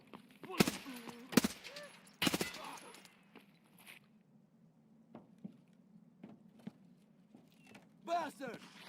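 Gunfire aimed at AI enemies in a shooter game, a few loud close blasts early, then scattered lighter shots and clicks over a low hum, with a voice speaking near the end.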